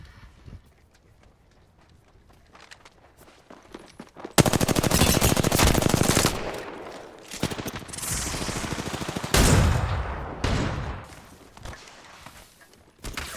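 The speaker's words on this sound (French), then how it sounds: "On me tire dessus." Gunfire in Apex Legends: after a quieter start, loud sustained automatic bursts roar in, pause briefly, then resume in dense rapid fire, close and dominant.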